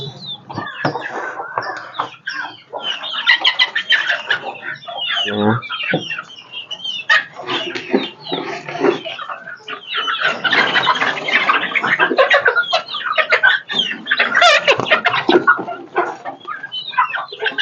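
Native country chickens on a small-scale poultry farm cluck continuously, with a dense, close chorus of overlapping clucks and squawks from many birds that rises and falls without pause.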